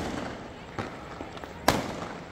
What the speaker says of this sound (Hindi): ये देखिए आप, चारों तरफ से पटाखों की आवाज़ें